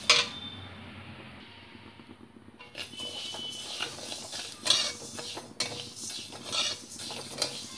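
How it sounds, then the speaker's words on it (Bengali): Moong dal is stirred and fried in a hot kadai, a spoon scraping and clinking against the pan in irregular strokes over a soft sizzle, quiet at first and then busier. "তলার থেকে কিন্তু নেড়ে নেড়ে ভাজতে হবে, নইলে মুগ ডালটা কিন্তু পুড়ে যেতে পারে।"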